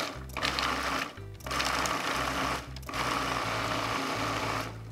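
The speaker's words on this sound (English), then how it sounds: "So we're ready to blitz this up now. I'm gonna go ahead and process. Just gonna pulse it." A food processor pulses fresh herbs in short repeated bursts, a loud whirring motor starting and stopping several times in a row with brief pauses between, no talking.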